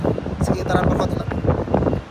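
Strong wind gusts around hotels in Medina, a broad steady rushing roar buffeting the microphone, loud and close, with a voice talking over it.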